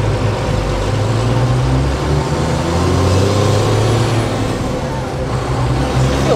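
A Cummins diesel-swapped 1970 Ford F350 crew cab cruises along with a low, steady engine drone and road rumble from inside the cab, while people talk over it.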